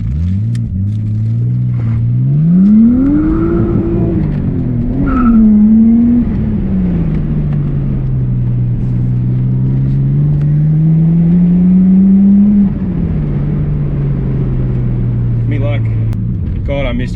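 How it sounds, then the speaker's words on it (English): Nissan Skyline R32 with an RB25DET engine revving and driving, its loud engine note rising and falling through gear changes over several seconds, with pops from the exhaust and talk over the top. "Pops and backfires through the exhaust when it hasn't got the screamer on it"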